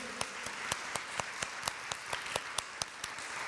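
Clapping from a church congregation during an Icelandic service: steady claps in unison at about four per second, soft and somewhat distant, with no talking.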